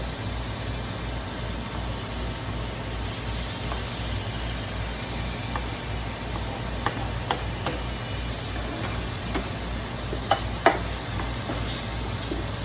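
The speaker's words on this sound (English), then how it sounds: "Let that fry up some. And I'm going to add my tomatoes and my cilantro." Tomatoes and cilantro added to frying onions in a pan give a steady, soft sizzle with a low background hum and a few faint clicks of stirring.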